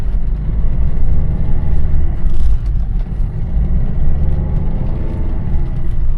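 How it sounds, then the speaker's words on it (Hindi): A car climbs a steep, muddy slushy road at a steady pace, its engine droning loudly and continuously up close with a smooth whirring strain, no talking heard. "और गाड़ी अभी से भी चल रही है"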